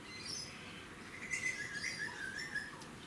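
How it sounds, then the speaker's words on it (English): Outdoors, a bird gives a few thin whistling calls and chirps, faint and somewhat distant over a quiet background hiss. "what bird is that?"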